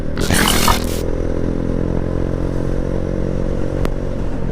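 A motorcycle engine idles with a steady, loud, harmonic drone, preceded by a brief harsh clattering scrape at the start and a single sharp click later.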